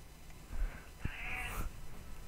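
A house cat meows for attention, two or three short cries over quiet room background, fairly close but not loud.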